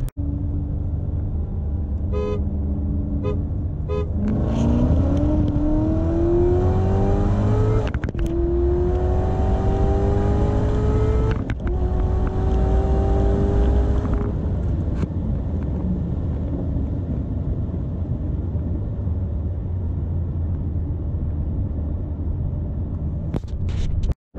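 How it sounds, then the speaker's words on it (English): A 2019 Chevrolet Corvette ZR1 accelerates hard from inside the cabin, its engine note climbing steadily through the gears. Two quick upshifts break the rising whine before it pulls strongly in third, loud and continuous throughout. "Anybody that gets to pull a third gear like that in a ZR1, you're gonna be impressed."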